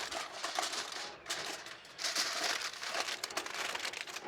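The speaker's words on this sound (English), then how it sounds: "because I don't have a lid for my cast iron, we're just going to do an aluminum foil lid" Aluminum foil crinkled and pressed into a makeshift lid over a cast iron pan, a close, steady crackling rustle that runs almost continuously with brief dips, no talking.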